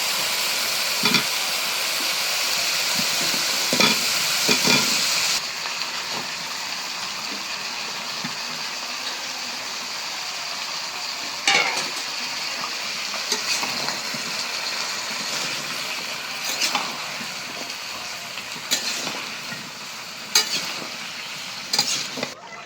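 Potatoes and cauliflower fry in a pan with a constant close sizzle and hiss, broken by intermittent scraping stirs throughout, with no one speaking.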